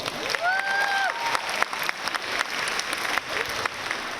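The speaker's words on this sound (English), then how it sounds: "Can we clap for her as well?" Applause from a high school graduation crowd for the board president, a steady dense wash of clapping with a faint voice at the start.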